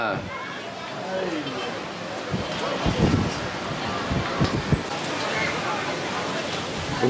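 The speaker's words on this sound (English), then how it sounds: "here comes the wind" Strong wind gusts roar across a microphone on an island at Ocean Cay near the water, a broad rushing buffet that swells and thumps loudly throughout, with people talking and shouting excitedly underneath.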